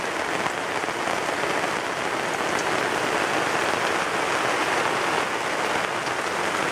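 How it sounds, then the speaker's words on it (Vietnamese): Heavy rain pours down at dawn in a dense, unbroken hiss that stays loud and even throughout, with no voices over it. "Mưa lắm"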